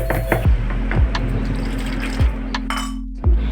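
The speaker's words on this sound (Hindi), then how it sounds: "1 गिलास पानी मैं इसमें डाल चुकी हूँ। अब मैं अगेन थोड़ा सा पानी ऐड करूँगी" Water from a glass is poured into besan dhokla batter in a kitchen, with a few short splashing pours and clinks of the glass against the bowl, close and clear.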